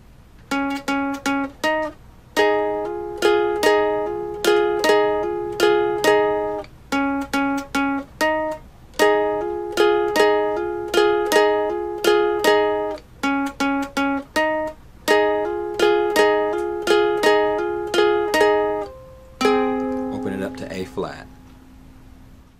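A ukulele plucks a melody from the Charlie Brown Peanuts Christmas special, a bright, close single-note line in short repeated bursts with a steady bouncing rhythm, ending in a strummed chord and a brief scrape.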